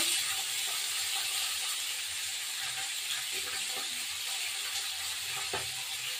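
Potatoes frying in oil in a pan with black cumin, green chili and onion for a Bengali fish curry, giving a steady broadband sizzle and hiss throughout, moderately close, with a few faint clinks and no talking.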